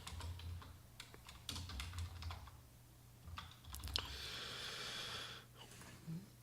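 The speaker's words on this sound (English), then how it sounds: "then I can type in the title" Bursts of typing on a computer keyboard, quick irregular clicks coming and going over a low steady hum, with a brief breathy hiss in the middle.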